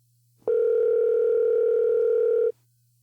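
A phone call rings out unanswered: one steady, loud ringback tone sounds alone for about two seconds and then cuts off, with quiet before and after.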